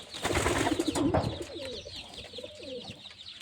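Pigeons coo nearby in soft, throaty warbling calls, a few overlapping, with some light rustling at the start.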